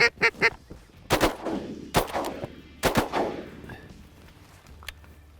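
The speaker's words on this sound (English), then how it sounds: "A couple widgeon just bombed us. Took 3 shots to hit one" Wigeon ducks whistle in quick bursts before three loud shotgun blasts ring out over a wheat field during a waterfowl hunt, each shot echoing and fading into quiet.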